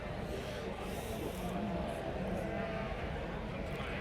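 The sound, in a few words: sheep bleating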